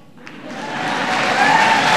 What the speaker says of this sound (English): Yeah, that's worth applauding.